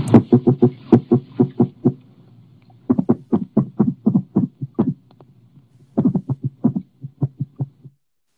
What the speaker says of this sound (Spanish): Ese es un ruido de un pez que no es de aquí de Chile.